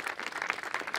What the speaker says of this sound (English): Help give them a round of applause if you could.